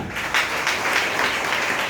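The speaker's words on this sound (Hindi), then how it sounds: "पहले मैडम आते, मैडम ले तालियां" A crowd applauds in a dense, continuous wash of clapping that stays fairly loud and even throughout, with a voice faintly underneath.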